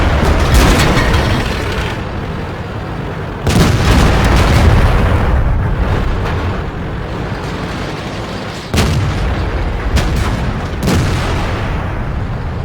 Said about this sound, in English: You can see our team is effectively shooting through that rock